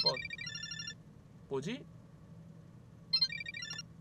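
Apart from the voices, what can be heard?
phone ringtone, incoming call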